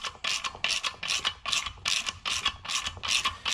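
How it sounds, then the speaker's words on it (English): A ratchet cranks down the main bolt during cylinder head disassembly on a 2012 Hemi 1500, giving about eight quick, even rounds of clicking strokes, close and clear with no voices. "then we can take our ratchet and then crank down our main bolt"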